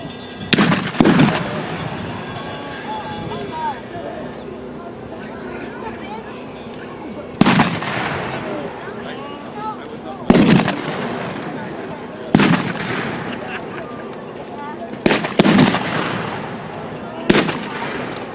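Gunfire at a World War 1 reenactment, loud rifle or artillery blasts spaced a few seconds apart with rolling echoes, under a faint outdoor background.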